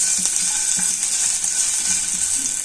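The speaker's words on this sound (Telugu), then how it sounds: "అల్లం బాగా వేయించుకోవాలి." Ginger sizzles in a pan for a ginger chutney made with urad dal, giving a steady, close hiss with a few faint scraping clicks.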